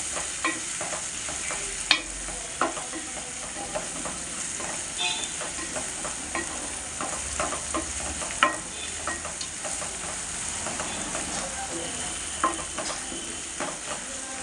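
Ginger garlic paste fries in oil for a fish curry, a steady close sizzle with scattered clicks and scrapes of stirring throughout.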